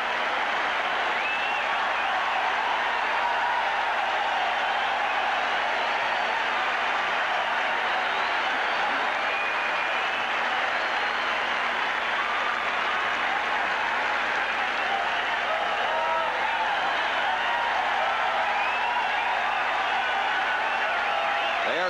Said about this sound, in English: it's a standing ovation for Yaz